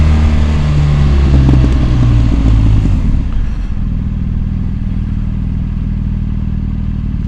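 A BMW R1250GS motorcycle's boxer engine runs close by, rumbling loudly and revving before settling into a steady, lower idle.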